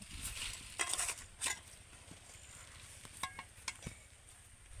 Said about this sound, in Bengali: উনানে বসিয়ে দিয়ে কিন্তু অনবরত এইভাবে নাড়তে হবে